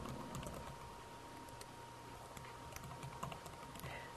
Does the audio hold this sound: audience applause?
no